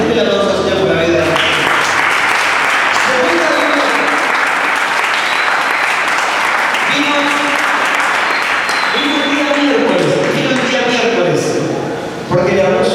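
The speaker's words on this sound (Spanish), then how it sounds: "Denle la aplauso al Señor por la vida" A church congregation breaks into loud, sustained applause for several seconds while voices carry over the clapping, and the sound briefly dips near the end.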